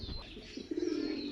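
Cooing from a red pigeon kept in a loft, a low throaty coo swelling in the second half, fairly close and steady, with faint chirps from other birds around it.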